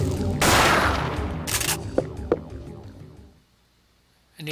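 Gunfire in the video game Parasite Eve II, a loud burst of shots followed by a couple of sharp clicks and metallic knocks, then a short silence.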